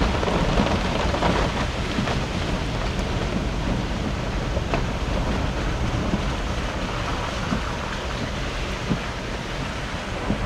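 Monsoon rain falls steadily on a forest in the Valparai hills, a dense unbroken hiss of drops on leaves and ground, fairly loud and near, with no voices.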